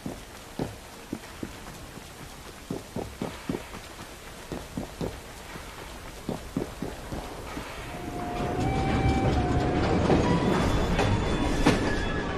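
Train rolling over rail joints in Assassin's Creed Syndicate, a steady run of clickety-clack beats building into a loud rumbling roar with a brief wheel squeal, no voices.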